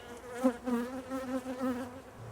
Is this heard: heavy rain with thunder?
no